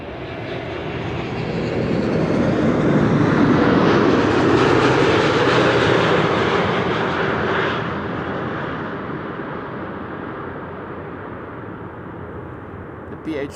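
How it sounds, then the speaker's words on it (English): A KLM airliner arriving at Amsterdam Schiphol after a long flight from Buenos Aires gives a loud, broad jet roar that swells to a peak mid-pass and then slowly fades as it rolls on, with no talk over it. "KLM flight 702, arriving from Buenos Aires. 12 hours, 54 minutes on the way"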